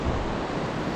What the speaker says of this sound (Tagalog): Pero siya hindi siya malalaki yung alon, napaka low tide niya, mababa lang yung tubig